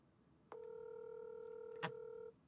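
A telephone call is dialed, producing a single steady dial-type tone that holds for nearly two seconds, with a brief click near its end, fairly quiet over a faint background.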